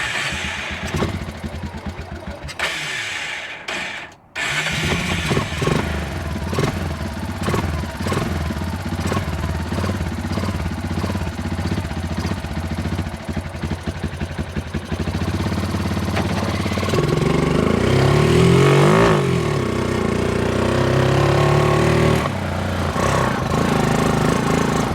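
A rebuilt small engine in a mini 4x4, with new internals, wiring and carburetor, runs steadily with a clattery, buzzing note that rises into louder revving near the end, close by and without talk.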